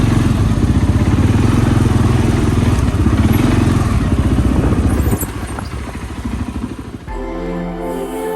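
A rented quad bike's engine rumbles loud and close on Mykonos, steady for about five seconds, then eases off as the idle thins out near the end.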